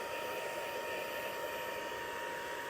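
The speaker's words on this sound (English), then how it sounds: "I'm going to take my heat tool and turn it on low" A heat tool blows on its low setting to dry freshly applied ink on a gilded art gallery card, giving a steady, close, even rush of hot air with no pauses.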